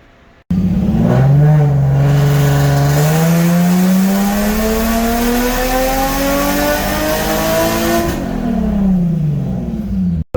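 A Honda S2000 engine revving on a dyno during a full pull, its loud tone climbing steadily in pitch for several seconds before dropping off and cutting out.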